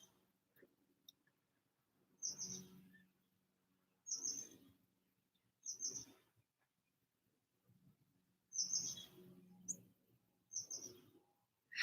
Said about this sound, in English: A chickadee.